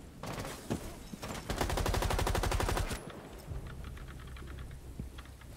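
Light machine gun fire in Rainbow Six Siege, a long sustained automatic burst of rapid, evenly spaced shots, loud and close, followed by a few scattered single shots and low rumble.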